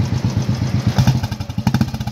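Motorcycle engine revving repeatedly with a thumpy, pulsing exhaust beat, close and loud, each throttle blip rising and falling in quick succession on a hill trip.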